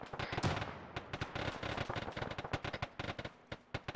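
Rapid gunfire in the military game Arma 3 crackles in dense, irregular bursts of sharp shots, some close and loud, others more distant, with no pause in the volleys.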